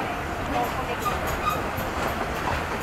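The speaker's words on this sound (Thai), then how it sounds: "ออกจากสถานีกรุงเทพก็คลานไปเรื่อยๆแบบนี้ครับ" A train crawls slowly out of Bangkok railway station, a steady low rumble of rolling wheels and carriages with faint clicks, close and continuous, with someone talking over it.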